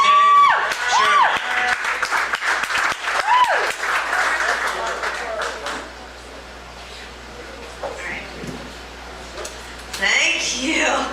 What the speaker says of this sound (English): Stop clapping, your hands are gonna hurt.